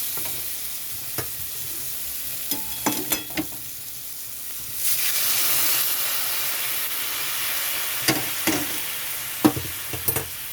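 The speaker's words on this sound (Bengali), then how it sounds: "এখানে আমি গরম জল দিয়ে দিচ্ছি" Hot water is poured into a sizzling pan of taro stem and potato curry with fish, raising a loud steamy hiss midway, while intermittent clinks and stirring knocks come before and after.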